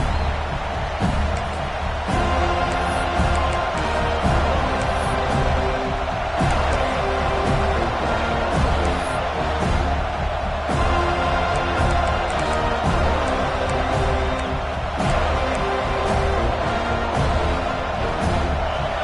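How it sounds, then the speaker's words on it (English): A large football stadium crowd at Florida State versus Nevada roars steadily throughout, a dense wall of cheering and shouting with no break, loud and close. "this crowd is fired up. Listen to this noise here."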